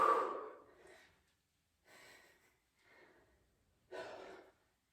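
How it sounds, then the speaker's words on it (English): Heavy, effortful breathing during a home workout of compound movements such as squats and curls: a strong exhale, then three shorter breaths in a rough rhythm, close and alone with no talk. "I can hear myself breathing."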